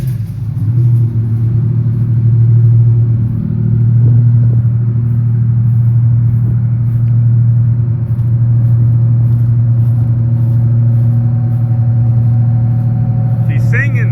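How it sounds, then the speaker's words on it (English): Twin Detroit Diesel 12V71 boat engines idle steadily, a loud, deep, even rumble with a strong low hum that holds throughout without changing pace. "Oh man, I hear these motors running from the front driveway."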